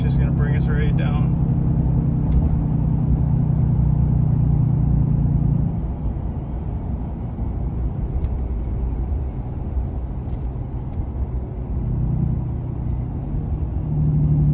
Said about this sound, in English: That exhaust brake's just gonna bring us right down.